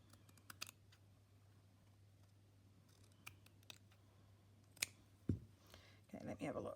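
Scissors snip fabric for a stitchery piece in a few sharp, quiet cuts scattered over a low steady hum, with handling rustle toward the end.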